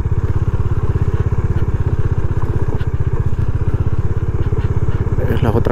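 A motorcycle engine rumbles steadily and closely at idle, a continuous low throbbing pulse with no voices.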